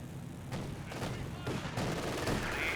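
Gunfire in the World War II strategy game Company of Heroes 2 comes as several bursts of small-arms shots, with dense overlapping reports in a busy battle soundscape.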